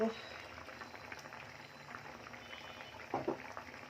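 Tengra fish curry simmers in a pot, a steady bubbling hiss running throughout at moderate level, with a brief louder clatter near the end.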